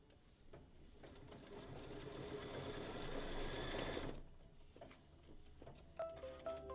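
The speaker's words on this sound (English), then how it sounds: "let's go ahead and let it stitch that down" A sewing machine stitches down a Minky and cork design, its steady, fast mechanical whirr running for about four seconds before stopping, followed by a few soft handling clicks and taps nearby.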